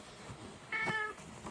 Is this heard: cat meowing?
yes